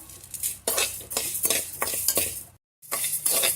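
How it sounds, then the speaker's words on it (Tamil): Moong dal dry-roasting in a pan is stirred briskly with a utensil, producing repeated scraping and rustling strokes with light metallic clinks, close and clear with a brief pause near the end. "பாசிப்பருப்பு வந்து நல்லாவே செவக்க வறுக்கணும்"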